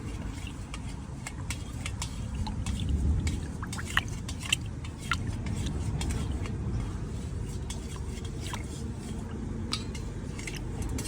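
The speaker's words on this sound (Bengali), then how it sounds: "এটা ভালো করে মিশিয়ে নিব, ভালো করে, যতক্ষণ না সুন্দর করে মিক্স হয় এটাকে এভাবে নাড়তে হবে।" A spoon scrapes and clinks steadily around a bowl while a mixture is stirred until well combined, a continuous soft churning with occasional sharper metallic taps.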